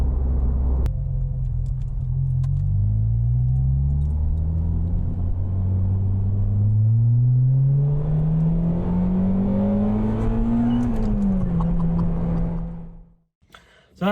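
Honda Civic EP3 Type R engine revving hard while driving, a loud close rising drone that climbs through the gears to a high pitch, then drops and cuts off near the end.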